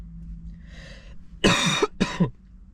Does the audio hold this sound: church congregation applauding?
no